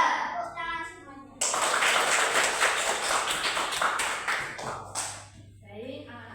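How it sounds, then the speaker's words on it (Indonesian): A class of primary school children claps together in a dense, loud burst of hand clapping lasting several seconds, with a teacher's voice speaking briefly before and after. "Tepuk tangan semuanya."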